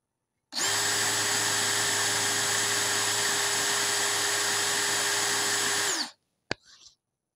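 A DeWalt DCD709 cordless brushless drill runs steadily at its second speed setting, a loud, even whine held for about five and a half seconds before it cuts off, followed by a brief clatter.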